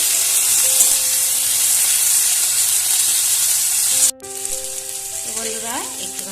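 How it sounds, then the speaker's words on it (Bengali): Ginger and green chili paste sizzles loudly in hot oil as it is stirred, a steady hiss that briefly cuts out before resuming, with faint tonal background sounds near the end. "দিয়ে দেবো আদা ও কাঁচা লঙ্কা বাটা আবারও ভালোভাবে নাড়াচাড়া করে নিচ্ছি"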